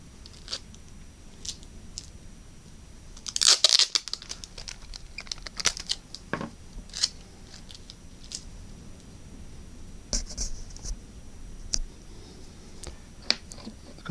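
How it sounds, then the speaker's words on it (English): Tape tears and crinkles in a few short, sharp bursts as strips are pressed onto the corners of a PCB solder stencil, close and fairly quiet, with soft handling noises between. "Put a bit of tape onto the corners."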